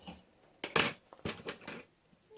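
Metal spoons cut apart for a hanging chime craft: a few sharp metallic snips and clinks spaced across a couple of seconds, close and fairly loud, with no talking.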